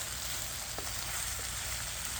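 Celery, peppers, onions and scallions stir-frying for a pork stir fry, a steady close sizzle with faint scrapes as the pan is mixed, no voices.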